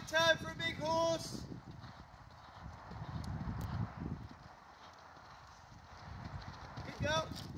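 A big horse's hooves clip-clop on arena footing during a cross-country lesson in December, soft uneven steps through a tight turn, with a riding instructor talking over them at the start and end.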